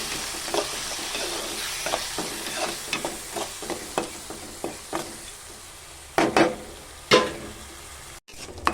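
A ground mint paste mixture sautés in a pan for mint rice, soft continuous sizzling under a regular series of spatula scrapes and taps, growing louder near the end, no voices.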